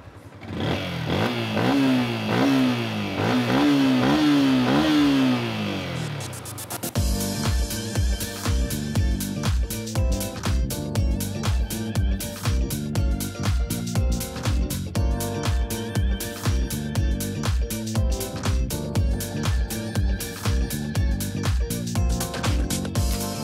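A 2021 Yamaha Sniper 155 R motorcycle engine runs close by after someone talks, settling into a steady, rapid, rhythmic thrum with repeated revs that carries on loud to the end.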